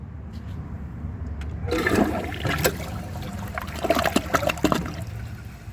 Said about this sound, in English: use the full flush